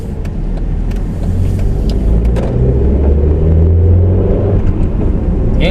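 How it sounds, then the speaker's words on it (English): The engine of a 2005 Mercedes A200 W169 with a manual gearbox growls steadily while driving, a loud continuous low rumble with road noise that swells slightly under throttle. "The engine feels quite muscular, it growls very nicely, it makes a good noise"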